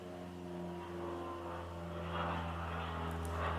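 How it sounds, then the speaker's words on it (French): Aircraft engines drone steadily from a distance, a low sustained tonal hum that swells slightly as it passes, faint and continuous with no talk over it. "on entend les avions aujourd'hui"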